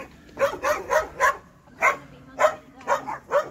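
A dog barks repeatedly nearby, quick clusters of sharp yapping barks with short pauses between them.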